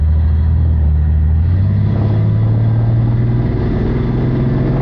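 A car engine fitted with a Holley/Weber two-barrel carburetor, recently retuned and still running slightly off, revs and rises in pitch as the throttle opens during a drive, with a loud, steady rumble and no talking over it.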